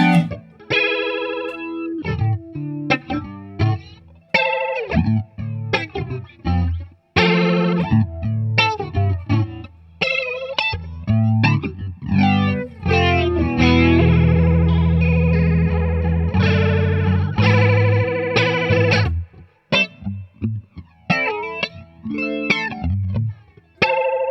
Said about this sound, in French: ce flanger comme il est beau